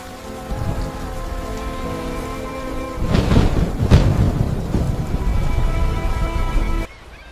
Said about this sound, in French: La tempête.